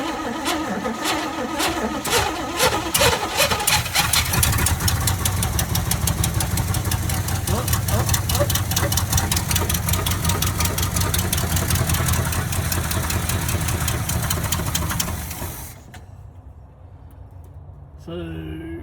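A 1979 Chevrolet C30 truck engine runs on fuel poured straight into the carburetor, a loud rough mechanical roar with rapid firing pulses that holds steady for about fifteen seconds, then cuts out abruptly and leaves near quiet.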